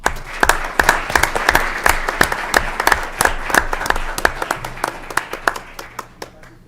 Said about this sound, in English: By a round of applause, please once again help me congratulate these Tiger Pride Champion Award winners.